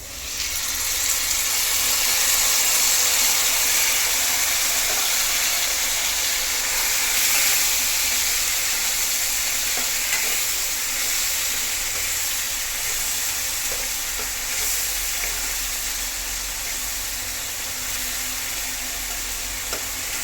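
Garlic, ginger and green chilli paste frying in a hot pan: a loud, steady sizzle with a bright hiss, continuous throughout without talk.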